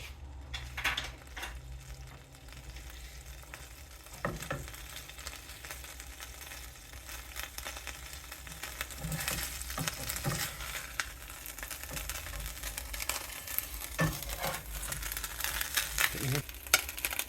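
A pepperoni pizza quesadilla sizzles steadily in a hot pan as its cheese melts, with a continuous frying hiss punctuated by occasional scrapes and knocks of a utensil against the pan.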